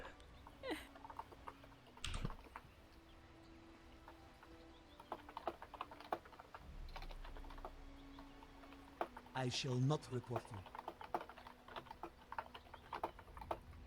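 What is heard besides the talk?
typing on a computer keyboard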